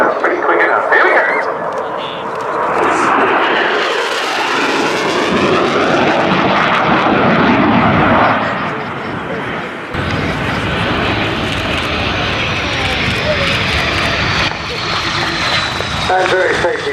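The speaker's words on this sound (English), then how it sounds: "he'll just be setting himself up now for the final high-speed pass again" A Swiss Air Force jet on its final high-speed pass at an air day roars loudly overhead, its engine noise sweeping through and holding steady, while a commentator talks over it.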